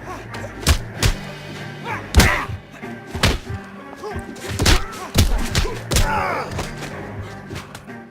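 Fist-fight punches in L.A. Noire VR, a series of heavy thuds and thwacks landing irregularly over several seconds, loud and close, with scuffling and grunts between blows.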